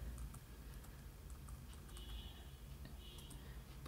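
A password being typed on the keyboard of a Nokia Booklet 3G laptop, with faint, scattered key clicks over a steady low background hum.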